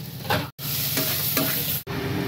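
Turmeric, black pepper and chili powder sauté in a pan for a wedding-style prawn dish: continuous close sizzling with repeated stirring scrapes, broken by two abrupt brief silences, no voices.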